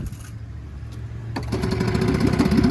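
A used outboard boat motor, one of a pair bought cheaply, idles in neutral with a steady mid-pitched chug that grows slightly louder and rougher after a sharp change partway through, close by with no talk.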